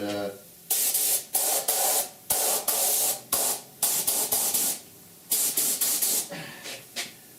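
Spray paint applied to a welded patch panel on a rusted 1969 Chevrolet C10 core support: a series of short, loud, close aerosol hisses in repeated bursts separated by brief pauses.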